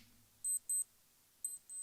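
A timer or stopwatch alarm beeps: two quick high-pitched beeps, a short pause, then another pair, crisp and close in an otherwise quiet room.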